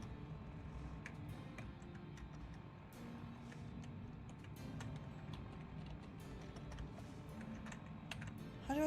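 Rapid keyboard typing from the terminal hacking screen in Fallout, with dense irregular clacks running steadily over a low background hum and no speech.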